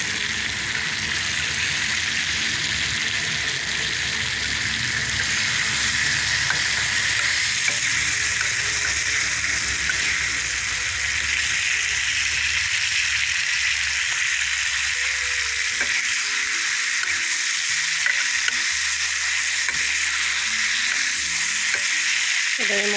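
Singi fish cooked from raw in an onion-garlic masala, frying with a steady, dense sizzle and crackle while being stirred, close and continuous for the whole stretch with no voices.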